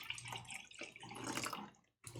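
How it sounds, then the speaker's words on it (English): Water is poured into a measuring cup for a drink mix, giving a steady splashing trickle that fades and stops briefly before resuming. "We're looking for 4 ounces of water."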